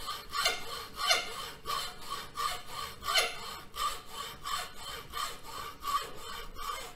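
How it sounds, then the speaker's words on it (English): Hand saw cutting through material while building a crystal radio, with steady rhythmic back-and-forth strokes, close and fairly loud throughout and no talking. "But just every little bit, make a cut through."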